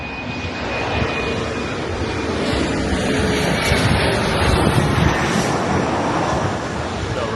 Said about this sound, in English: I get a second shot of these planes coming in